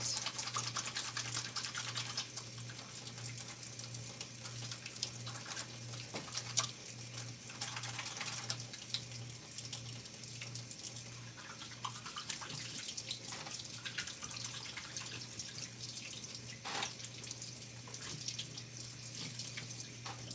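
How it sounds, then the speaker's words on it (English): A hand being washed under a running kitchen tap, a steady rush of water from a faucet into a sink with small splashes and changes as the hand moves, held near for the whole stretch with no speech. "then I'm gonna wash my hand really quick"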